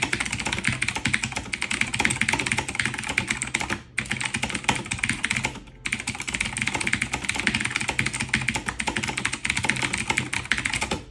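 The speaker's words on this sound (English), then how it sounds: "Next up is the Razer Black Widow with clicky switches, and I believe these are the older style switches" Rapid, steady typing on a Razer BlackWidow mechanical keyboard fitted with older-style clicky switches, dense sharp clicks close up with two brief pauses, no talking.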